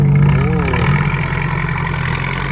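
A tracked excavator's diesel engine runs steadily at a Buriram digging site, a continuous mid-to-low rumble, close and loud, with a bulldozer working nearby and faint voices in the background.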